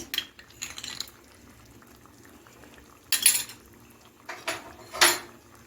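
Chicken in tomato sauce being stirred in a pan, with a few short scraping and clinking bursts of a utensil against the metal over a quiet background.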